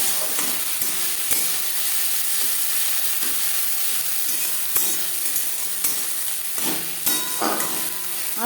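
Carrots frying with spices in a small amount of oil in a pan, a steady close sizzle with occasional scrapes and clicks of stirring, no talking.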